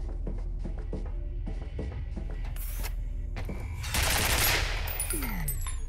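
Rapid turret gunfire in the shooter game F.E.A.R., loud repeated bursts of shots in quick rhythm, building to a dense roaring barrage near the end, then a falling whine.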